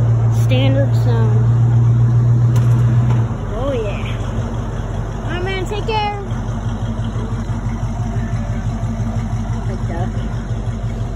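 Classic Ford Mustang engine idling through its exhaust pipes, a steady low rumble under outdoor chatter, with people talking nearby as it runs.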